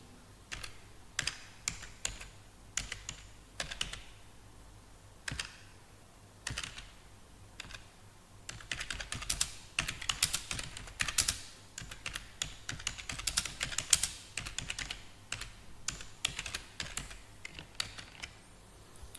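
Rapid bursts of keystrokes on a computer keyboard while Java code is entered, close and crisp, with irregular pauses between runs of typing and a denser stretch in the middle.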